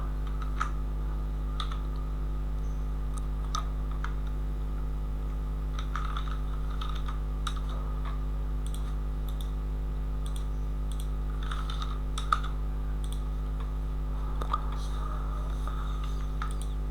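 Computer keyboard key presses while working in Optitex pattern software, with sparse, faint clicks scattered over a steady low hum. Soft background voices occasionally murmur.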